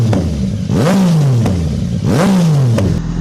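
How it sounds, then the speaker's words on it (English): A Yamaha FZ09 motorcycle's triple-cylinder engine revs up sharply twice and falls back each time, loud and close, with no voices. "you often hear how cool the triple cylinder engine is on the Yamaha"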